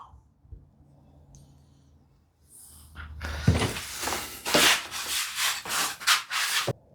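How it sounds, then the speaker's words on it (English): Repeated rubbing strokes as excess glue is wiped off a wooden thicknessing jig, a series of close scuffing swipes in an uneven rhythm after some quiet handling noises. "I'm trying to wipe off the excess as much as I can."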